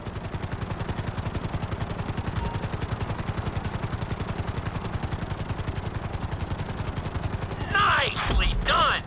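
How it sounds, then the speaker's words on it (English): Helicopter in GTA V flying a timed flight-school course, a steady rapid rotor chop pulsing throughout at close range, with a brief burst of louder mechanical noise near the end. "we'll see how well you handle the chopper"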